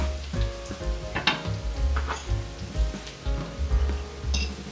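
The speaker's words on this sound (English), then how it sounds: "we're just gonna add in the garlic here." Lots of garlic sizzles in a pan with cooked bacon, a steady crackling fry with bursts of popping and occasional stirring scrapes, close and fairly loud with no talking.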